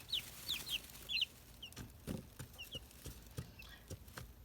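Several chickens cluck in short, scattered bursts close by, with soft patter and shuffling noises between the calls and no talking.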